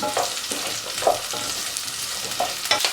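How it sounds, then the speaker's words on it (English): Spring onion, ginger and onion stir-fry in hot oil for braised beef noodle soup, a bright continuous sizzle with periodic clinks and scrapes of the spatula against the wok, no talking. "When the oil is hot, pour the spring onion, ginger and onion in."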